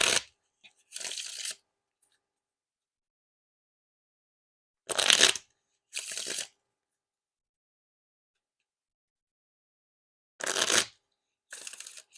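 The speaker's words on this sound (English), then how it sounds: "And now for the riffle shuffle or bridge shuffle." OPC Classic Potato Chips playing cards riffled in bridge shuffles, three pairs of crisp, fast fluttering bursts, each a riffle followed by a short cascading bridge, with silent gaps between and no talk.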